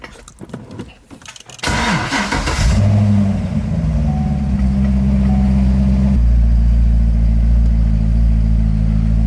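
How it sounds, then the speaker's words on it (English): A Corvette sports car cranks over after a few quiet cabin rustles, catches with a loud burst, then settles into a deep, steady rumbling idle that drops slightly in pitch partway through, all close up and without talk. "So I'm gonna turn on the car real quick."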